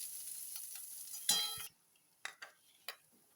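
Capsicum and onion sizzle steadily in a pan for chilli jackfruit, then the frying cuts off and a spoon or spatula clinks against the vessel a few times, close and fairly quiet.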